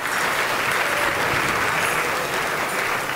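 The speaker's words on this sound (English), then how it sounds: "Just give her a round of applause" Loud, steady applause fills the room at a political party convention dinner, honoring the mayor of Diamond Bar, a dense wash of clapping hands sustained without a break from start to finish.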